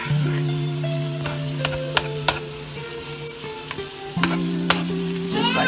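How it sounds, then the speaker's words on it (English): Ground beef with taco seasoning being stirred in a hot pan, giving a continuous close sizzle with occasional scraping clicks of the utensil, while faint steady tones run underneath. "Make sure that you stir it up, you guys, so that seasoning get all on that ground beef"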